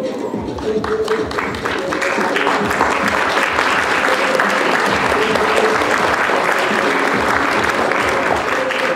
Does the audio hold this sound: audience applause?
yes